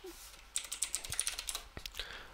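Computer keyboard keys pressed in a quick cluster of close, crisp clicks, including a Control C keystroke combination, with a couple of heavier taps after.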